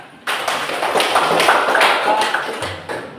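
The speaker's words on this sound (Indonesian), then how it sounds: "Tepuk tangan." Audience clapping hands at a session on contemporary music, a brief burst that starts abruptly, holds for a couple of seconds and fades out, with some voices underneath.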